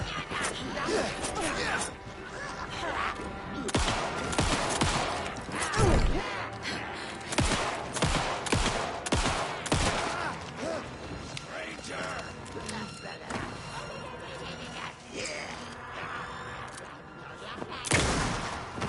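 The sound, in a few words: gunfire in Alan Wake 2 video game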